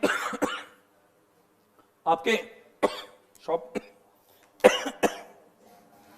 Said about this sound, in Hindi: खांसी कब जाएगी?